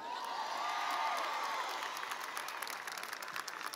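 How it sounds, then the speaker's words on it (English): A large outdoor crowd at a university undergraduate commencement applauds and cheers, a broad, sustained roar of clapping with scattered whoops that slowly thins toward the end. "Let's also give a round of applause for something else that just made its appearance"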